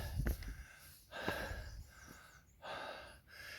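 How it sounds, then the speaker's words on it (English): Heavy breathing from a hiker on the Appalachian Trail, close and fairly quiet, with a few distinct snorting inhales and exhales spaced a second or so apart. "you probably don't want to hear this heavy breathing anymore"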